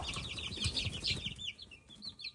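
Chickens on a small farm, meant to be all hens, clucking and squawking in short bursts, with busy scratching and rustling close by and no one talking.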